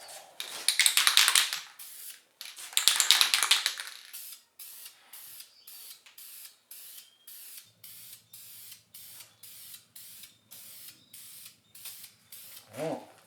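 Two long hissing bursts of spray paint as wrinkle finish goes onto a telegraph key base, followed by faint, regular clicking and a low hum from nearby equipment.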